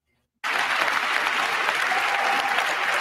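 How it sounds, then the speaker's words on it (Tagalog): Applause at a presidential inauguration ceremony, with Kamala Harris and Joe Biden among those clapping: dense, steady clapping from a large crowd begins abruptly and holds at an even level throughout. "pumalakpak si Harris at saka si Biden"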